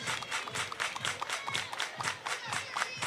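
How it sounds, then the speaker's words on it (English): Crowd at a college softball game between Duke and Marshall clapping in a steady rhythmic beat, repeated evenly spaced claps heard from a distance at moderate volume. "Everybody clap your hands."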